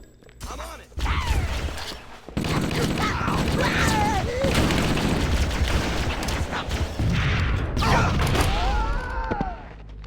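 Gunfire and explosive bursts in Halo CE, rapid volleys and booms filling most of the stretch after a quiet start, with game voices and creaky mechanical effects layered in between.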